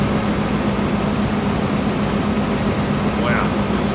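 A tractor engine runs continuously in Farming Simulator 15, a loud, steady low drone that fills the whole stretch with no breaks.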